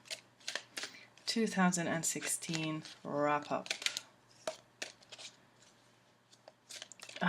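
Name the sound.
shuffling tarot cards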